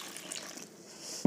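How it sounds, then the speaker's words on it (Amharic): Lukewarm water is poured into injera dough, a faint soft trickle and splash that ends with a brief louder splash. "ለብ ያለውን ውሃ እንደዚህ ጨምርና"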